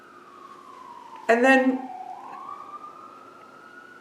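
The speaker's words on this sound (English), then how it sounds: "every time I start a video lately, the siren starts" An emergency siren wails in the distance, a steady rising and falling tone that continues throughout. A short burst of speech briefly cuts across it.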